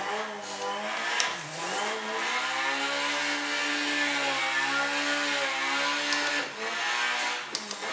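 A car engine in the Assetto Corsa driving game roars at full throttle through a drift, its pitch climbing and dipping as revs rise and fall, loud and continuous for the whole stretch.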